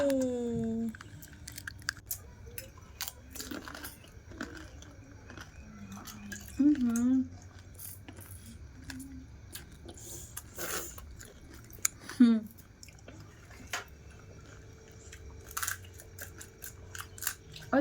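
Crunchy bites and chewing of fuchka, the crisp puffed street snack, come as scattered close crackles and clicks between stretches of conversation, with a few louder crunches standing out.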